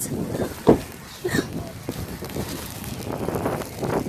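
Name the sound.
strong wind during a blizzard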